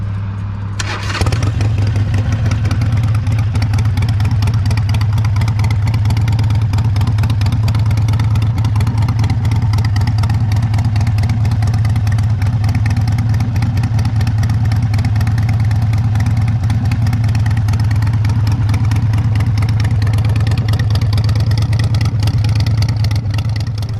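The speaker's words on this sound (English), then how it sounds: "this is what the bike sounds like right now with the slip-ons on the bike" A Harley-Davidson Sportster motorcycle with slip-on exhaust mufflers idles steadily and loudly close by, a deep continuous rumble with a brief rev at the start and no talking.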